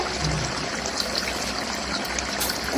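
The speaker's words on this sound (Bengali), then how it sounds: "আতপ চালটা আমি দিয়ে দিলাম।" Uncooked atap rice is poured into a mixer grinder jar for gujiya sandesh, giving a steady granular hiss and patter that lasts the whole stretch at moderate loudness with no talking.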